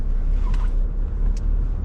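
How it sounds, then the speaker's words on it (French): Citroën C5 2.0 HDI 140 diesel, a 2015 Exclusive, driving: a steady low cabin drone of engine and road noise, fairly loud and constant, with a couple of faint brief clicks. "Nous voici au volant de la C5 2 litres HDI 140 chevaux, exclusive, année 2015."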